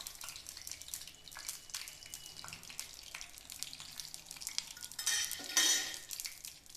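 Mustard and fenugreek seeds drop into hot oil in a small pan, giving a busy, steady crackle and sizzle with light scattered pops that swell louder near the end, close up and alone.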